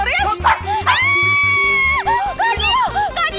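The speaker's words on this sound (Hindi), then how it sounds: "तुम्हारे डॉगी को दूर करो" A small pet dog yips and barks excitedly in a home during a wedding anniversary scene, with people shouting loudly over the repeated barks and a sustained whining yelp.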